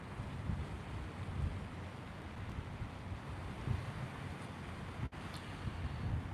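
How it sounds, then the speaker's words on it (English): Large waves break and wash steadily along a Lake Superior beach at Duluth, a broad continuous roar of surf mixed with gusty wind buffeting the microphone, with no voices. "Pretty large waves."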